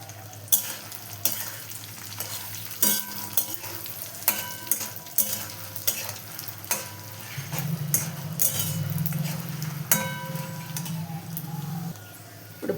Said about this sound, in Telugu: ఇవన్నీ దోరగా వేయించుకోవాలి